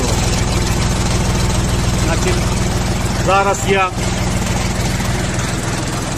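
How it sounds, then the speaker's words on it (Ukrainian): Jinma 24 hp mini tractor with a KM385 engine idling steadily and close, a continuous low running drone with someone speaking briefly over it. "Ви як зараз чуєте, як він працює, безперебійна ідеальна робота двигуна, двигуна КМ385."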